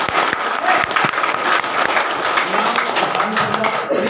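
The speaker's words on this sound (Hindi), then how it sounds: "जरा सा मुस्कुरा के ताली बजा दीजिए" An audience at an RCM gathering claps in a loose, busy wave with a few sharper individual claps, mixed with faint crowd murmur and a voice over it.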